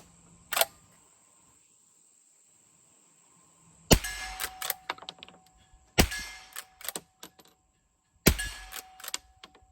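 Three bursts of .22LR fire from a 1951 Marlin 39A rifle, each a sharp crack followed by quick ringing clangs of steel plates, plus one lone early crack; outdoors, no talk.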